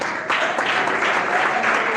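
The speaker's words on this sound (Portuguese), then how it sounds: "Quem bate palmas?" Congregation applause at a church service, a dense, steady patter of many hands that starts suddenly and holds loud and close to the end, with no voices over it.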